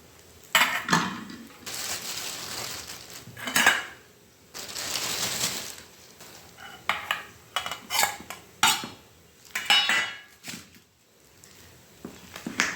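A cooking pot is clanked and handled while chutney is made with crushed jaggery, giving scattered metallic knocks and scrapes in irregular bursts, fairly close, with no talk.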